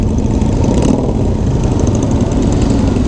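Motorcycles rumble steadily through a group ride at the Distinguished Gentleman's Ride in Sacramento, a dense, continuous low engine drone with no pauses, close and loud, and no one talking.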